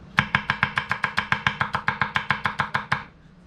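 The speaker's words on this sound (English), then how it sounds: "Sometimes when you're chopping peppers like this" A Dao Vua pipeline steel nakiri knife chops peppers on a board in a quick, even run of about seventeen crisp, close knocks, stopping abruptly, with no talking.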